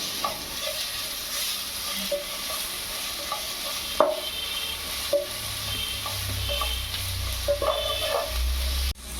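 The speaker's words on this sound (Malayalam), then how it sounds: "ഈ സമയം തക്കാളി ചേർത്ത് കൊടുക്കാം ഒന്ന് ഇളക്കിയെടുക്കുക" Tomatoes being stirred into sautéing masala in a pan at a street food stall, with a steady soft sizzle and occasional light scrapes and clinks of a spoon against the pan.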